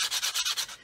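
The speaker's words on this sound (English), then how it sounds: "sanding lightly" Light strokes of a sanding stick on the inside edge of a buff, about six quick, even back-and-forth scrapes up close, easing off at the end, no talking.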